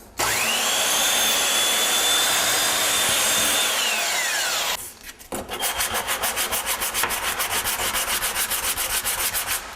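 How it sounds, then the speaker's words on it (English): Hard maple being worked with 80 grit sandpaper, a steady, loud rasping scrub for about five seconds, then a brief pause, followed by fast rhythmic back-and-forth strokes, close up with no talking. "This is 80 grit sandpaper,"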